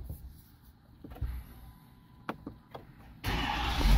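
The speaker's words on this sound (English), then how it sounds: "truck running" A 2023 Ford F350 diesel truck cranks with a few scattered clunks, then its engine catches and settles into a loud, steady running roar for the last stretch.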